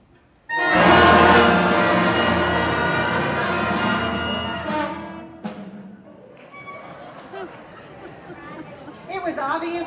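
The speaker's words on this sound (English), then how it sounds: "They got to produce the first sound on their instruments." A beginner school band's first notes: a dense, blaring mass of sustained instrument tones starts abruptly, holds for several seconds, then breaks off into scattered squeaks and murmurs.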